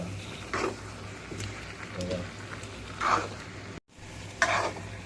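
Masala for cashew chicken curry being stirred in a pan, a low sizzle under a few distinct scraping and clinking strokes of a spoon against metal, close and unhurried, with no talk.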